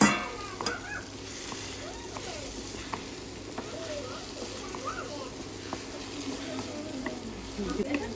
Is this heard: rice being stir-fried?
yes